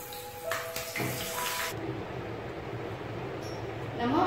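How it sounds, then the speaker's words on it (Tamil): Whole brinjals fry in hot oil in a small kadai, giving a steady, dense sizzle that runs throughout, with a few brighter crackling bursts in the first two seconds. "இந்த மாதிரி முழு கத்திரிக்காவை அந்த எண்ணெயிலே போட்டுருணும்"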